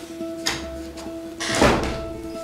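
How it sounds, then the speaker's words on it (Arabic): An apartment door is pushed shut: a soft knock, then a rustling, scraping swing ending in a dull close thud, heard nearby over a low electrical hum. "اقفل الباب."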